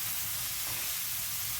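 Onions sizzle in hot oil in a pan on the burner for pork chops, a steady close hiss of frying that carries on without talk.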